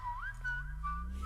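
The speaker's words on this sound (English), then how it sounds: "That wasn't a track? That was whistle. I thought it was Whistletone." A singer reaches into the whistle register, producing thin, piercing high notes that glide up and settle in short phrases over a faint low backing.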